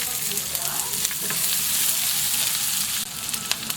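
Chopped onion and tomato sautéing in a hot pan for Filipino mung bean stew (ginisang monggo), a steady close sizzle and crackle that continues throughout with no talking.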